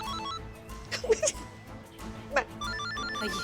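A mobile phone ringtone chirps in short melodic bursts during a tense bomb scene in a hospital, moderately loud against a busy background.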